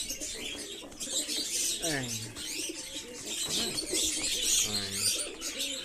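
A pair of white fantail pigeons coo in short repeated bursts close by, their low rolling calls standing out over steady background chirping and ambient noise.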